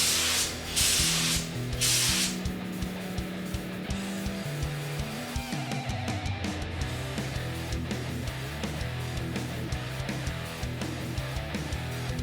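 Bursts of airy spray from a spray gun spot-priming car body panels hiss in short passes, layered over steady background music, with pauses between each spray burst.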